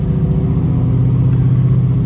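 Supercharged Godzilla V8 in a 1978 Ford Bronco warming up, a steady, loud, close idle rumble with a deep low-end throb that holds even throughout.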